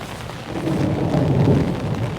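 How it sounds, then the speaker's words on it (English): A low, sustained rumble of thunder rolls through steady rain, swelling in the middle and holding loud to the end. "Oh, some thunder."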